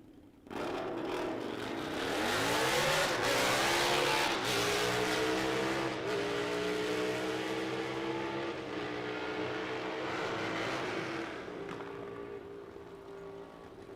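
A drag racing car makes a single pass at National Trail Raceway, a loud engine roaring up in pitch as it launches and accelerates, holding a strong howl before fading as it gets farther away.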